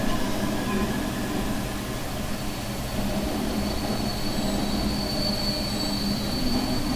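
A Metropolitan Line train runs through a railway scene in Transport Fever 2, with a continuous rumble of wheels on track and thin, sustained high squeals running over it, no voices.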